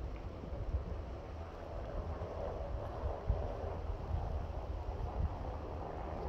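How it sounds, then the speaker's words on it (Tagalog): Wind buffets an outdoor microphone on a clear, cold winter day with late-season snow, giving a steady, loud low rumble with gusty swells and nothing else heard. "Hangin kasi."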